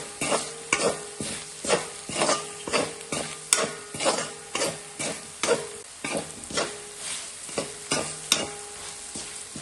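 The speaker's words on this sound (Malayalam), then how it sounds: "ഇനി പൊടികളെല്ലാം നന്നായി ഒന്ന് മൂത്ത് വരുന്നവരെ ഇളക്കാം" Spice powders and garam masala roast in a pan for a pork fry, with a soft sizzle under loud, rhythmic scraping from a spoon stirring about twice a second.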